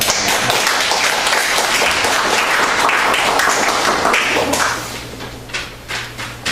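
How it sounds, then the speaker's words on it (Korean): A church congregation claps in welcome during a worship service, a dense, close burst of applause that holds steady for several seconds, then thins into scattered claps as it fades out. "박수로 좀 환영해야 되니까요"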